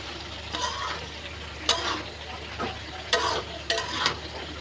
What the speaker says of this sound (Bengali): ছোলাটাকে ঢেলে দিলাম। এখন হচ্ছে এটাকে নেড়ে চেড়ে নিব, একটু ভাজা ভাজা করে নিব আর কি ছোলাটাকে।